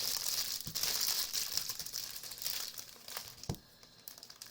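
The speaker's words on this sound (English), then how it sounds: "If you like the sound of crinkling plastic, you definitely come to the right place." Plastic packaging from a Lego Daily Bugle set crinkles and crackles almost nonstop, close and fairly loud, with a few sharper snaps mixed into the rustling and no voices.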